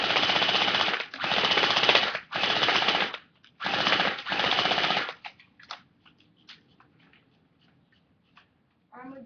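Airsoft M4-style gun firing bursts of sharp rapid shots, four loud volleys with short pauses, followed by quieter mechanical clicks and handling noises with no talking.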